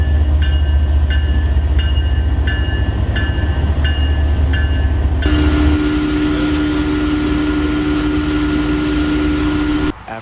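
CSX locomotive 3194 rumbles past in Houston, loud and close, its steady roar joined by a repeating ringing bell before shifting to a sustained engine tone.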